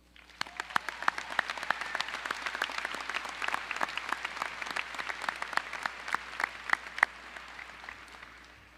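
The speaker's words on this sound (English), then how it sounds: "Please join me in applause for these dedicated teachers." At the 2016 Noblesville High School graduation ceremony, an audience claps for the teachers. Bright, close hand claps crackle in a steady stream over a softer bed of crowd applause, which fades slightly at the end.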